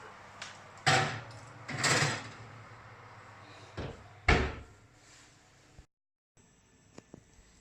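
An oven door is opened and shut as a tray of shortbread goes in, giving a few separate hard clunks and bangs with quiet handling between them, close by and without speech.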